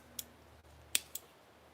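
Scissors snip through fiber material to cut a strip for weaving, giving three short, crisp clicks that are quiet and close. The first is soft, the second is the sharpest, and a third lighter snip follows quickly.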